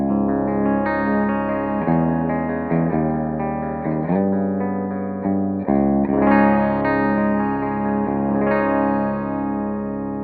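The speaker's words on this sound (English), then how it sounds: "So the clean tone of this guitar sounds like this." Clean electric guitar playing sustained chords and melodic notes, bathed in a gentle reverb tail, with no voices.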